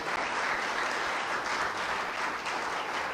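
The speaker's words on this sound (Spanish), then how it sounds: "denle un aplauso fuerte al Señor" A church congregation at a Sunday general service claps loudly and steadily, a dense, continuous wash of applause from many hands with no speech over it.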